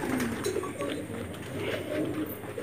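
Pulsar breed Madrasi pigeons, an old breeding pair, coo in low, rolling murmurs that run steadily throughout, close by and alone with no talk.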